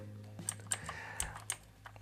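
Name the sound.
typing on an Aukey KM-G6 keyboard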